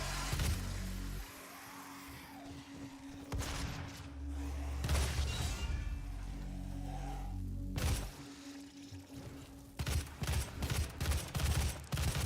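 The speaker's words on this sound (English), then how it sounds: "Early ion gun, I think. Plasma rifle," Rapid bursts of plasma rifle fire in DOOM, sharp repeated volleys broken by gaps, loud and close over rumbling in-game effects and a low hum, with no talk.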